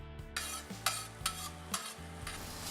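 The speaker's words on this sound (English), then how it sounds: "Sizzle the fennel and the garlic." Fennel and garlic sizzle steadily in a frying pan, broken by four or five rhythmic stirring scrapes that flare up brightly, close and fairly quiet, with no talking.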